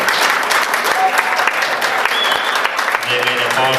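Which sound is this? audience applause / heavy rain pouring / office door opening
audience applause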